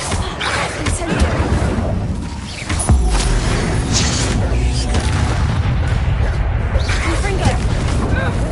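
Incendio fire spell cast during a wolf fight in Hogwarts Legacy on Hard difficulty: a dense run of booming magical blasts and impacts, loud and close, with a brief lull near the three-second mark before the clash resumes.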